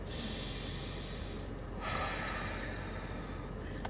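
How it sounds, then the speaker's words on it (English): A group draws one deep breath together, a long airy inhale and exhale heard close up as a soft rushing hiss with a brief pause partway through, no talking. "One breath together."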